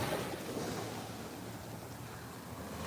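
Ocean waves wash onto a clear-water shelling beach, a steady broadband rush with gentle swells, near and fairly loud with no voices.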